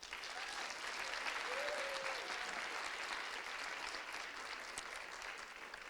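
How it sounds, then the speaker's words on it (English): Audience applause for debate speakers at a university dialogue event, a sustained even roar of clapping hands from a large crowd that holds steady throughout, heard at moderate distance. "please give our speakers a round of applause"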